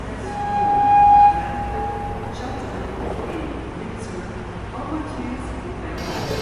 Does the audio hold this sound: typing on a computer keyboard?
no